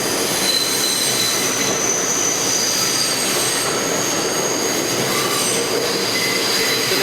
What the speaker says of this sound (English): train comes through roaring here